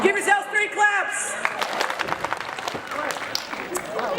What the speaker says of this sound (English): Give yourselves 3 claps.